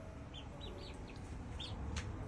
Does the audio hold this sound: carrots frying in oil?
no